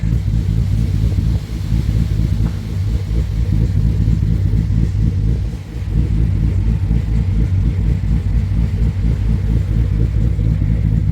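A Jeep SRT with a Borla exhaust and rear resonator delete runs close by with a steady loud deep rumble, two brief dips in the drone, and no talk.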